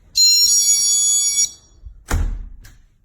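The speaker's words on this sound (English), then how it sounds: "And that's just the chime." GE personal security window and door alarm giving a bright, steady electronic chime for about a second and a half, followed by a brief clunk as the door moves, close and clear.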